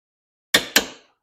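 Two sharp metallic clicks in quick succession from a torque wrench reaching its 117 foot-pound setting on an 18 mm lower control arm bolt of a 2000 Buick LeSabre, close and clear in a quiet garage.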